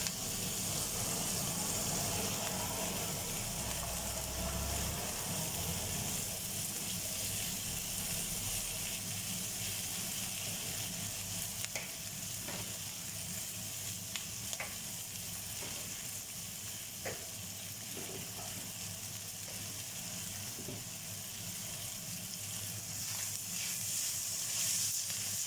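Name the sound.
ingredients sautéing for chicken curry casserole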